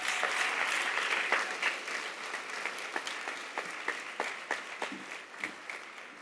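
Audience of PR professionals at a Ghanaian conference closing applauds, a dense wash of clapping that thins into scattered, rhythmic individual claps toward the end.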